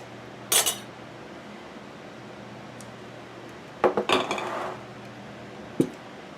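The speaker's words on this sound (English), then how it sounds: "you just want to test your seal just by picking it up from the lid." Glass canning jars of pressure-canned green beans are lifted by their metal lids to test the seals, giving a sharp clink, a cluster of clattering glass knocks, and a final single tap, spaced apart over quiet room tone.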